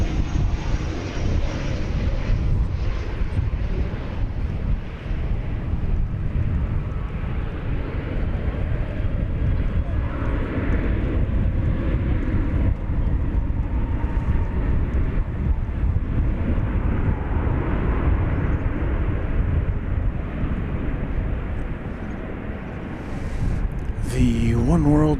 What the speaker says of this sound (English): The One World livery belonging to American Flight 1208 coming in from beautiful downtown Burbank, the 737-800.